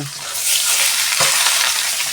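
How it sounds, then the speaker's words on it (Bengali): Chopped raw tomatoes fry in hot mustard oil, a steady loud sizzle and crackle with a brief scrape of stirring partway through, no voices. "এই টমেটো কাঁচা টমেটো কুচাইয়া ভাজবো"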